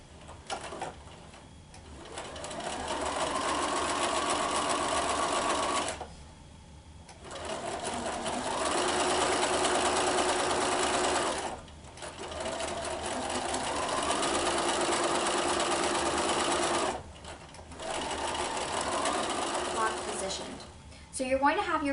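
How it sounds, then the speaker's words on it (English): Sewing machine stitching quilt pieces together with a quarter-inch seam, a fast steady whirring rattle in several long runs separated by brief pauses. "we're going to sew 1/4 inch seam all the way down. So I'm going to go sew all of these pieces together"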